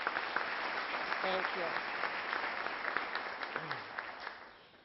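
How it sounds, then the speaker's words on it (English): Audience applause fills a community presentation on a local block-improvement project, steady and sustained for several seconds as a voice briefly speaks over it. "please give them a round of applause"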